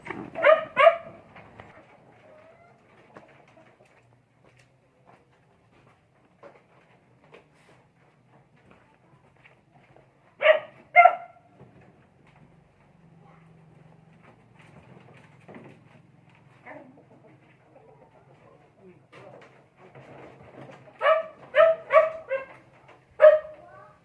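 Pet dogs bark in short bursts near the start, midway and at the end, with softer whimpers and yips between them in an otherwise quiet space.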